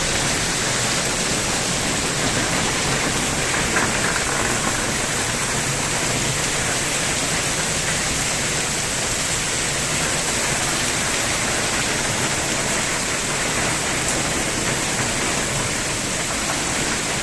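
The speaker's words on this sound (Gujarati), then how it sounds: "લગભગ પોણી કલાકથી વરસાદ પડી રહ્યો છે." A cold, gusty wind drives heavy rain that has been falling for most of an hour, a loud broadband rush that stays constant and close for the whole stretch, with no talking.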